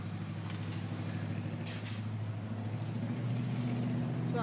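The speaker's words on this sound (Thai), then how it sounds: "อ้าวเขาขนเรือเขามาเก็บ" A truck hauling boats away for winter storage rumbles past nearby, a steady low engine drone that grows slightly louder toward the end.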